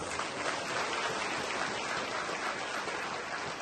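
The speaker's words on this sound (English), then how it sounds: "Give yourself a round of applause" Audience applause at a gathering, a continuous broad wash of clapping holding at even strength throughout, without voices cutting through.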